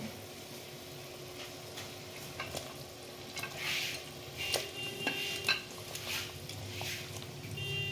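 Prawns frying in a pan for a coconut milk curry, a quiet sizzle with occasional stirring scrapes and clinks of utensils against the pan.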